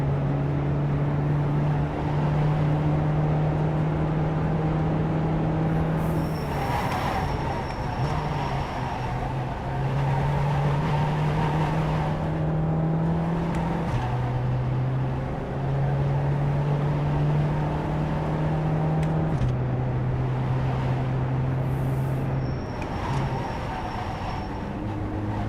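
A race car lapping Sebring in a racing game, its engine droning steadily at close range and shifting pitch with each gear change and corner over a long continuous stretch.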